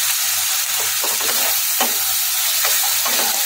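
Chopped tomato and sugar stirred in a frying pan for egg chilli, a steady sizzle with a few scraping strokes of the spoon across the pan, close and continuous, no talking.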